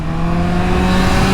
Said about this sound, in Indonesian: Setelah upshift ke gigi 2 langsung narik banget. Engine-nya mulus, smooth, halus.